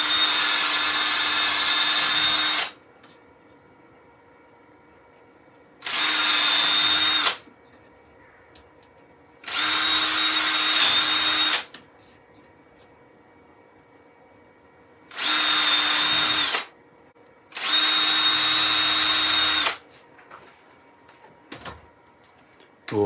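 A hand drill bores holes straight through wood during woodturning work on German smoker figures, running in five loud, steady whirring bursts of a few seconds each with quiet gaps between.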